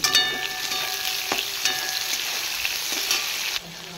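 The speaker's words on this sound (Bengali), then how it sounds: "পেঁয়াজগুলো এবারে নেড়ে চেড়ে ভালো করে লাল লাল করে ভেজে নেব" Chopped onions hiss and crackle in a hot wok for chicken chow mein as they are stirred, with a few sharp scraping strokes over a steady close sizzle and a faint tonal hum at the start; no one speaks.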